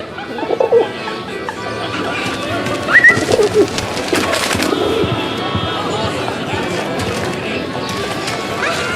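Pigeons coo close by in a Paris setting from the video game 11-11 Memories Retold, a few distinct gurgling calls over busy street ambience with hoofbeats and voices murmuring.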